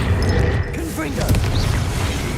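A Confringo spell blast in Hogwarts Legacy bursts out as a loud, dense boom with rumbling low end, overlaid by shorter whooshing effects and voice-like game sounds across the brief moment.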